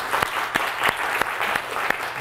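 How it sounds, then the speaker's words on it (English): A lecture-hall audience at a Harvard Extension computer science class applauds steadily for two volunteers, a dense continuous patter of many hands clapping at moderate loudness with a few sharper claps standing out. "A round of applause for Timothy and for Abdul."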